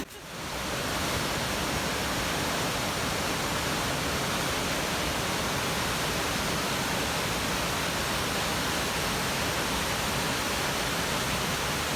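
Cora Linn waterfall on the Falls of Clyde in Scotland roars as a loud, constant broadband rush that fades in at the start and holds steady throughout, with no voices over it.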